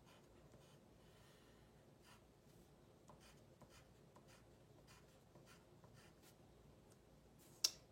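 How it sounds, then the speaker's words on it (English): Faint, close pen or pencil strokes on paper while sketching a bench, with soft intermittent scratches and a sharp click near the end, with no talking. "And I'm gonna draw a bench."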